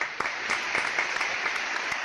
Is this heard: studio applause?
yes